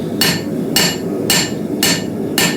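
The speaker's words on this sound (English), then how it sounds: "The right edge of one blow becomes the center of the next blow, and I tip to the top of my anvil." A blacksmith forging a frontier knife blade strikes the hot steel on an anvil with a hand hammer, five sharp, evenly spaced ringing blows close to the listener.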